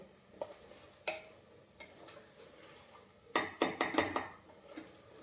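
Spoon scraping and stirring chicken with tomato in a pan, a few scattered clinks early, then a quick run of sharp, close metallic scrapes near the end, with no voices.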